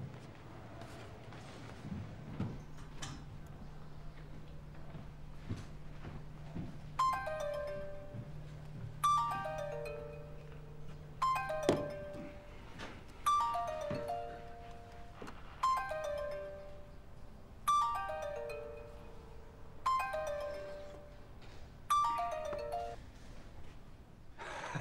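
A telephone ringtone repeats in bright, chiming bursts about every two seconds while a call is placed to a lawyer; a low hum precedes it, and the rings continue steadily with no talk over them.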